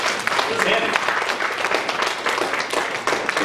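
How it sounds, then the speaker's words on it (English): A church congregation applauds and claps for Jesus after a prayer, a dense steady wash of hands filling the room, with a brief spoken remark over it. "can we give Jesus an awesome hand clap?"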